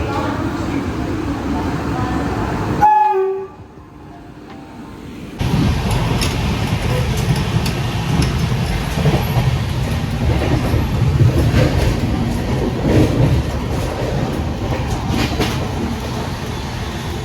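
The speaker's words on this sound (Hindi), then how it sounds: "Train is coming. आ गई आ गई।" A train arrives at a station with a loud, continuous rumble that briefly drops to a faint ringing squeal before the roar returns. Voices speak under the noise.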